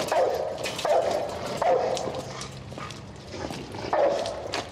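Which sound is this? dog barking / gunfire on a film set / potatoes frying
dog barking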